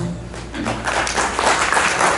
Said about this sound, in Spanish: Nuevamente un aplauso.